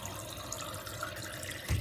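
Tap water running into water bottles being filled, a steady splashing wash throughout with a louder gush near the end, no talking.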